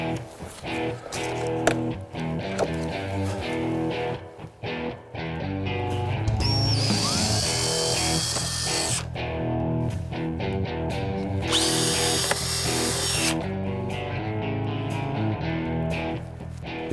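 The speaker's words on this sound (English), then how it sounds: "Use a center punch and drill a 1/4-inch hole." A power drill whirs in bursts, starting and stopping, with two longer high-pitched runs drilling 1/4-inch holes for a side splitter on a 2005-2014 Ford Mustang, close and fairly loud.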